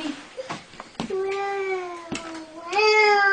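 A cat gives several meows, a few short calls and then two long drawn-out ones, close by with brief bits of human voice around them.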